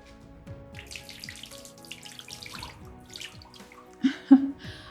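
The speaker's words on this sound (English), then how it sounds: "I wash my hands." Tap water runs steadily into a bathroom sink during handwashing, a soft continuous splash with a few louder splashes near the end.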